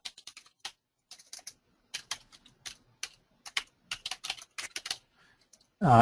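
Someone types on a computer keyboard in quick bursts of close, crisp key clicks with short pauses between words, ending on one brief louder thump.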